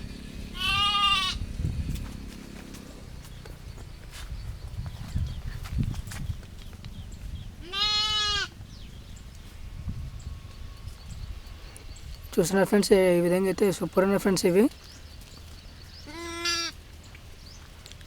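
Lambs and goats bleat in a farm flock, several separate wavering calls spread over the stretch, one long loud chorus among them, while someone talks over low shuffling and farm background.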